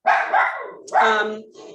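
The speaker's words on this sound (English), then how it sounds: "my dog is barking because I get a delivery" A dog barks twice in quick succession indoors, loud and close, the second bark trailing into a higher yip, with a fainter bark after.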